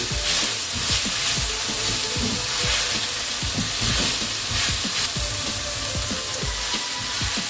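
Mixed vegetables tossed with pav bhaji masala sizzle steadily in a hot pan, with continuous frying hiss and repeated scraping stir strokes close by.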